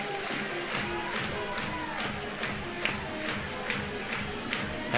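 A crowd on its feet at Rhodes House during an Oklahoma vs Alabama college softball game, a steady dense roar of voices and cheering with occasional claps, continuous throughout and under commentary.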